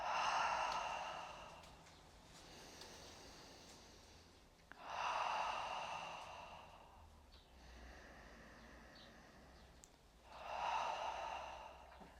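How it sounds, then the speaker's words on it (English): Deep breathing during a chair yoga session: slow, soft breaths in and out through the mouth, about three long exhales with quieter inhales between, close and gentle. "inhale 3 deep breaths. Feel that gentle rising up through the body, and exhaling out the mouth."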